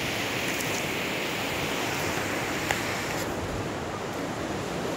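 Steady broadband surf of sea waves on Vinh Hai beach near Hue, a continuous washing roar that stays loud and even throughout with no talk over it.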